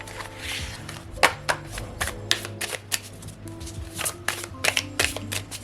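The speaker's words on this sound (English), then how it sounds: "Let's use these cards." Tarot cards are shuffled and handled at close range, with a string of sharp riffling snaps and soft slides coming in uneven bursts over a quiet background hum.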